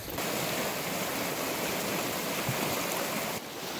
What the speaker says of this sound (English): River crossing 22.